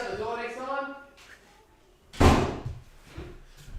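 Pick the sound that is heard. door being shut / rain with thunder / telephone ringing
door being shut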